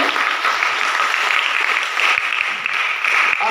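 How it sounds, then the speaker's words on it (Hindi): Loud, dense applause from an audience at an NCC Vijay Diwas ceremony held at a girls' college, sustained clapping that continues steadily through the whole clip. "इसलिए एक बार जोरदार तालियां मिलती हैं"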